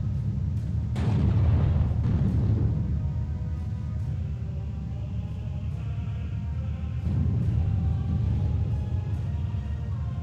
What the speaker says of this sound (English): The rate of fire of this gun is pretty good.